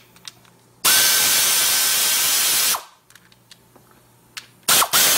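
Power tool, likely an impact driver or drill, run in one steady two-second whine while removing bolts for a car wiring harness, then small clicks and handling noises before a short second burst, loud and close.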